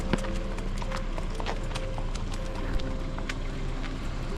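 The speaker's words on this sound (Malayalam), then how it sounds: "ഇപ്പോൾ നമ്മൾ കാണുന്നത് കുതിരയാണ് കുതിര" Horse hooves clip-clop in a steady, regular rhythm against a constant background of outdoor noise, fairly close.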